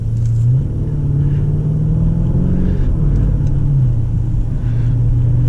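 Inside a Lamborghini Urus SUV on the road, the engine gives a low, loud, continuous drone, rising and dipping in pitch through smooth gear changes, with no voices.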